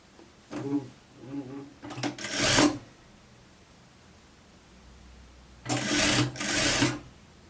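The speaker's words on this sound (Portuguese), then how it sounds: "dobra em um e também pesponta aqui em cima, passa a costura" A sewing machine topstitches a raglan sleeve coat seam in short bursts of rapid stitching, with quiet pauses and fabric rustling between runs.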